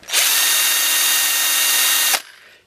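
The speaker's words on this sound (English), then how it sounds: "by pushing the hand drill" Hand drill twisting four thin flimsy wires together, a steady loud whir running continuously for about two seconds before stopping abruptly, heard alone with no voices.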